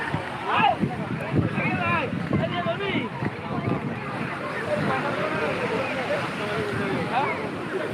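Sea waves at Puri beach wash in with a continuous broadband roar, steady and close, mixed with wind buffeting the microphone; a voice talks over the surf throughout.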